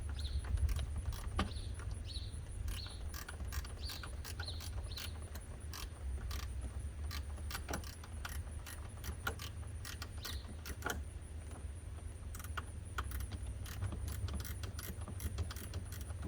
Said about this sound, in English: I'm supporting the wrench with my finger, just the back of my fingernail.